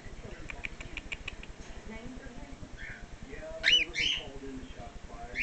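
A baby cockatiel makes soft, high chirps and short squeaky calls in a brief cluster, close but fairly quiet, over low background noise.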